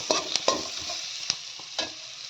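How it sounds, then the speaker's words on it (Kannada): Fish fries in oil in a pan over a low gas flame, a soft sizzle running underneath while a utensil stirs and scrapes with several sharp, separate clacks against the pan, close and without any voice. "ಫ್ರೈ ಮಾಡ್ತಾ ಇದ್ದೇನೆ ಇವಾಗ ಇದನ್ನು."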